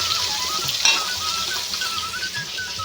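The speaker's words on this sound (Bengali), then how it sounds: "মাছ ভাজছি, তরকারি হয়ে আছে" Fish fries in a pan with a continuous, moderately loud sizzle and one brief clink of a utensil partway through.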